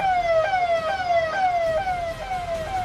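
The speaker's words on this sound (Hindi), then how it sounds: "और इस जाम की वजह से एम्बुलेंस फंस गई।" An ambulance siren stuck in a traffic jam caused by a tractor-trolley road blockade during a farmers' protest near Delhi, wailing loud and close in a repeating falling sweep with road noise underneath.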